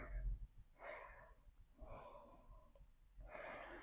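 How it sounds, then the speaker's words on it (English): Heavy, audible breaths close to a microphone during a Pilates workout, several bursts of exhaling and inhaling spaced a second or so apart, with a soft background hum. "I'm sorry if I'm heavy breathing down my mic"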